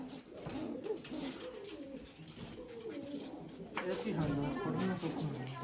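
Kept pigeons coo with low, rolling murmurs, mixed in with people talking nearby.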